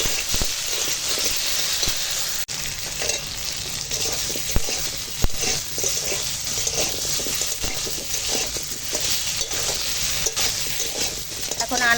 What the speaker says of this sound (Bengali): এখন দিয়ে দেবো কেটে রাখা সবজি মশলার সঙ্গে আনাজটা একটুখানে ভেজে নেবো